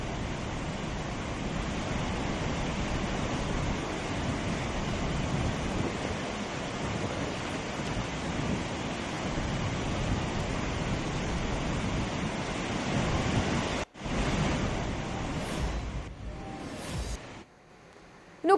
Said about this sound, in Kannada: ಮಹಾಮಳೆಗೆ ಮೈಸೂರು ಜಿಲ್ಲೆ KR ನಗರದಲ್ಲಿನ ಧನುಷ್ಕೋಟಿ ಜಲಪಾತ ಭೋರ್ಗರಿತಾ ಇದೆ